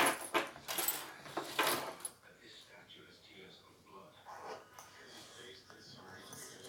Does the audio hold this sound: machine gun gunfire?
no